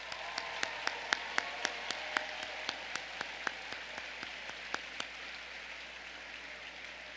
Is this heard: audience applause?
yes